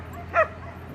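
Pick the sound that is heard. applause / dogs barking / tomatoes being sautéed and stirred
dogs barking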